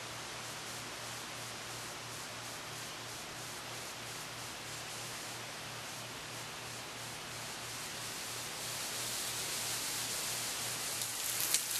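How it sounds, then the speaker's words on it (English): First rain from Hurricane Isaac in Arkansas falls as a steady, dense hiss that slowly swells louder toward the end, with no talking over it. "It just started raining, 1:45 p.m. Hurricane Isaac."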